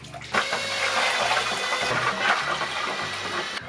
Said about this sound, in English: All right, 1 gallon of water down.